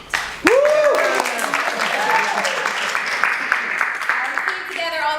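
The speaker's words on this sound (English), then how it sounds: "You should clap for that." Audience applauding at a charity theatre performance, sustained crowd clapping with a voice cheering and talking over it near the start, steady and fairly loud throughout.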